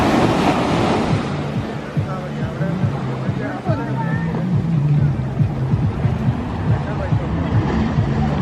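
Surf at Arthunkal beach on the Kerala coast rolls in continuously under gusty wind, with a steady broad wash of breaking waves while people talk and call out nearby.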